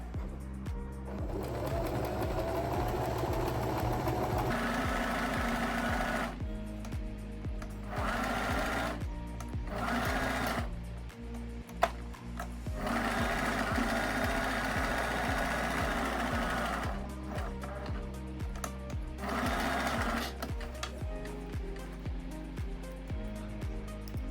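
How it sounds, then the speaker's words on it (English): A sewing machine stitching a buttonhole in trouser fabric, a rapid close mechanical chatter running in bursts separated by short pauses, with a louder clunk midway. "So I'm just going to put my needle down where I want to start my buttonhole, and then go for it."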